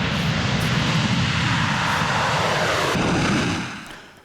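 Chinese military aircraft flying over Taiwan, a loud, steady engine roar that holds for about three and a half seconds before fading away.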